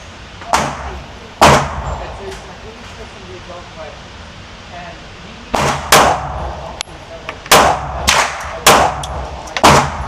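Pistol shots fired at a target from a Ruger LCP MAX compact pistol: about eight loud, sharp reports, two early and then a quick cluster, each with a short ringing tail, with talking in between.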